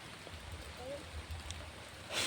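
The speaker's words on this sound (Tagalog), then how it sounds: "Grabe itong ulan na to." Heavy rain pours steadily, a dense hiss over low rumbling, with a faint voice briefly audible underneath.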